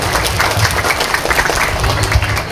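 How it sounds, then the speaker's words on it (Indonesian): Dense applause from a crowd at a parish welcoming ceremony for a priest and a nun, steady and loud throughout with a low rumble underneath. "Tepuk tangan sekali lagi untuk Tuhan."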